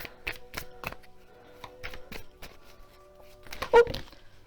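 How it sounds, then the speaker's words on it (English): Affirmation cards being handled and shuffled: a series of quick crisp riffling clicks and slaps, close and fairly quiet, with a louder burst near the end. "Move my cards around, shuffle away."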